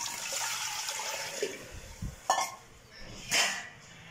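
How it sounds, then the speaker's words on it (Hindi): Water poured into a heating kadai for a mutton and turnip curry in a home kitchen, heard as splashing bursts with clinks of metal cookware, fairly close and moderately loud. "तो अब हम इसमें ऐड करते हैं पानी,"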